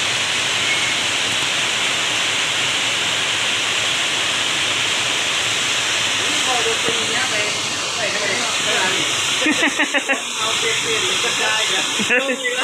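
Heavy rain pours in a dense, steady hiss, with someone talking over it for much of the time.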